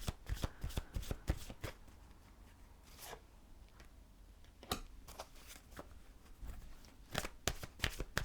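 Romance Angel Oracle cards being shuffled by hand, with quiet bursts of riffling and flicking that come in uneven clusters.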